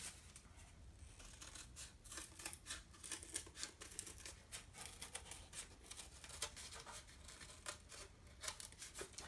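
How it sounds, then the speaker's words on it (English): Scissors snip steadily through material to cut out small circles for making little woolen pom-poms, a quick run of close, crisp cuts with faint paper-like crinkling and no talking. "And then we're going to cut out the circles."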